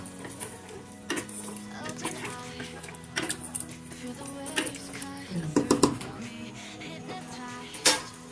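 Beef stew is stirred in a cooking pot, with a spoon scraping and clinking against the metal in irregular strokes over a low simmering sizzle, and a few louder knocks near the end.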